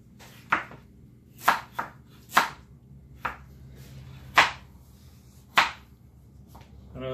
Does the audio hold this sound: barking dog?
no